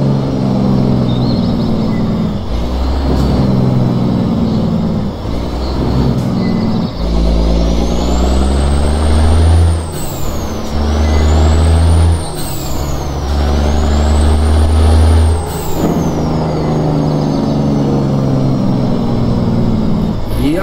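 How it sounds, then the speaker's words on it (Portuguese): A 669 hp diesel truck engine sound mod in a driving game roars through repeated rev-ups and gear changes, with whistling turbo sweeps and sharp air-brake hisses between pulls, loud and close. "Eu irei testar somente os 4 motores que estão em evidência, que são esses 4 motores de 669 cavalos"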